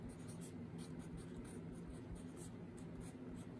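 Pen scratching across paper while handwriting the word justification, faint, close, continuous small strokes over a low steady hum.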